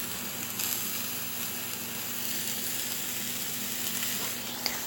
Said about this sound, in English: And you can just hear the sizzling.